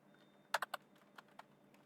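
A quick burst of three close keystrokes on a computer keyboard, then two lighter taps, as a name is typed into a form, quiet with no speech.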